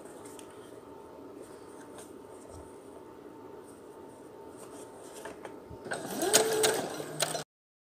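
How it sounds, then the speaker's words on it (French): Quiet sewing machine stitching a fabric face mask, a low steady mechanical run with a brief louder burst of whirring near the end before it stops abruptly. "Et je couds."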